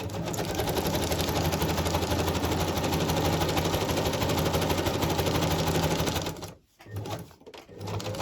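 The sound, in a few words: sewing machine stitching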